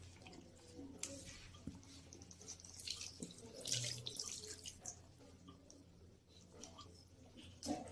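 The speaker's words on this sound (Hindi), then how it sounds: "तो मैं बस इसमें इतना ही पानी डालूंगी, आधा ग्लास।" Half a glass of water is poured into a pot of korma gravy, a splashing, bubbling stream with faint sizzling and clinks in a home kitchen.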